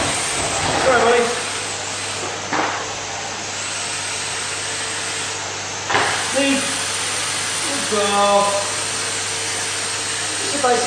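A hoover runs with a steady, loud droning whine throughout, its motor hum constant while a person speaks briefly over it to a dog, with a few bumps as the vacuum moves.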